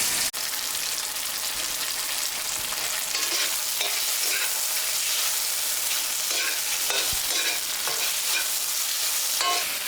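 Chicken stir-fried with garlic over high heat for chicken chowmein, producing a steady loud sizzle with repeated clanks and scrapes of a spatula against the pan, close and without talk.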